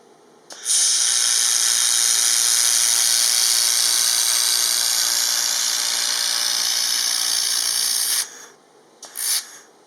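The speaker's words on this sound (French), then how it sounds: "J'ai aussi soudé avec le fil d'apport," A handheld laser welder fusing steel with filler wire gives a loud, continuous hiss lasting about seven seconds, cutting off abruptly, followed by a short second burst.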